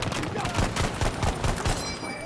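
Automatic gunfire in the video game Battlefield 2042: a continuous, loud rattling spray of rapid shots with a steady pulsing rhythm, backed by dense game noise throughout.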